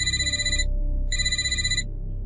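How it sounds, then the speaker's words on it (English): A telephone rings loudly in two bursts with a short pause between them, steady and close, and no voices are heard. "That's when my phone rang again."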